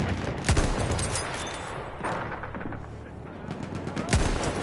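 Gunfire in a military shooter video game: repeated bursts of rifle and machine-gun shots, with sharp louder cracks near the start and end over a steady din of battle.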